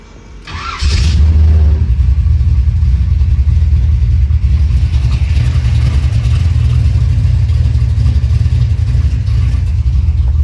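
A big block Chevrolet Monte Carlo engine fires up and then holds a loud, deep, steady rumble close by, with no voices over it.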